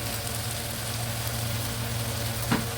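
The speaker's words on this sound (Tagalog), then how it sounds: "ilagay na natin yung ating patatas" Diced potatoes sizzle steadily in a hot frying pan as lumpia filling cooks, a soft continuous crackling hiss with one brief stir or clink near the end, no talking.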